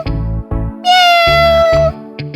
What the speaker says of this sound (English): And so, ChuChu and ChaCha hid the kitten in their bedroom.